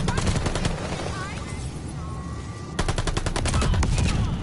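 Automatic bursts from an MP-40 submachine gun in Call of Duty: Vanguard, rapid rhythmic shots in loud strings that pause briefly and then resume more heavily, with a player talking over the gameplay.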